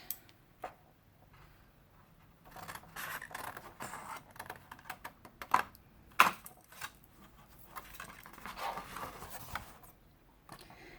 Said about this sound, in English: I love the sound of paper being cut.